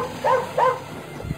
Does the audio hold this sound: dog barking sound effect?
yes